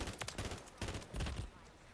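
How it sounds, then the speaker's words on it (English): FR 556 burst-fire rifle shooting in Modern Warfare 3, several quick bursts of gunfire in a row, loud and close, with no talk over them. "I haven't really used the burst fire weapon on this map"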